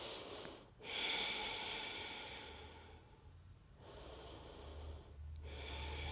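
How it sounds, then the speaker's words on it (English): Slow, deep breaths during a yoga stretch, each long airy inhale and exhale close and soft, separated by brief quiet pauses. "Take one more big breath in"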